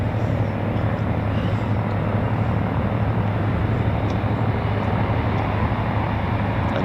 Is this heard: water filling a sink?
no